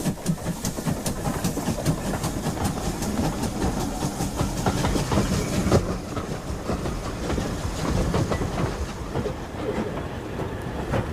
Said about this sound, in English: Goodrich Castle backs onto a rake of coaches just brought in from the carriage sidings at Old Oak.